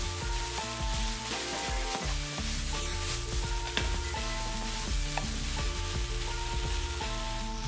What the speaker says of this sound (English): Now I'm gonna add the cabbage and snap peas and stir everything together until the cabbage is wilted and the snap peas are vibrant green.